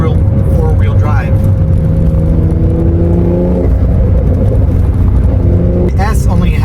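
A car with a sport exhaust pulls away hard from a stop, its loud engine note climbing through rising tones with a gear change partway through, while someone speaks over it.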